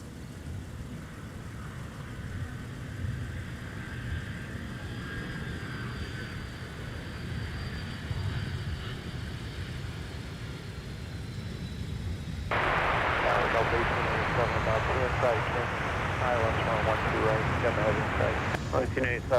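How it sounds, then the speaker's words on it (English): An Airbus A330-300 airliner arriving from Amsterdam Schiphol at Minneapolis–Saint Paul airport, with a steady, broad roar that swells sharply partway through, heard under a voice talking. "here's 165 Heavy from Amsterdam Schiphol with the A330-300"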